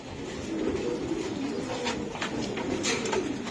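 A racing pigeon coos steadily at close range, its soft low throaty calls running continuously with no voices.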